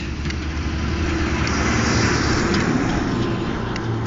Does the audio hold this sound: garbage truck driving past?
yes